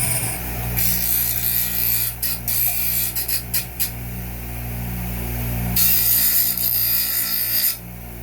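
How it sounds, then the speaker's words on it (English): Bench grinder running steadily as the edges of a wooden beehive frame are sanded against it, a continuous motor whine with short bursts of rough grinding contact, close and fairly loud. "Just take your bench grinder. You can turn it on."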